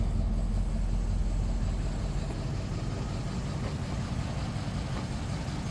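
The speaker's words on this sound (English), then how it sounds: "It's idling good." A 2010 Ford F250XL utility truck with a toolbed idles steadily, its engine a low, even rumble that stays constant throughout with no talking.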